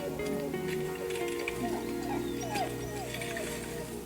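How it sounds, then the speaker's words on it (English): A dog whimpers and yips with its tail caught in a leg trap in the film Prey, high thin cries over a loud continuous score and background rumble. "The dog's got its tail stuck in a leg trap."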